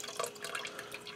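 Salsa-jar water is poured around a roast in a pressure cooker pot, a soft, steady trickle and drip of liquid lasting about a second, quiet and close with no talk over it.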